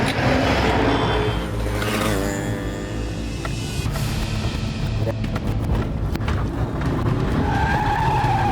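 A car skids during a chase in a TV crime drama, with loud sustained tire squeal and engine roar that fade into scattered scraping and rattling noises.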